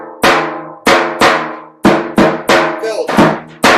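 A hand drum plays a simple steady groove: deep booms answered by sharp slaps, evenly spaced and close, with no extra notes in between.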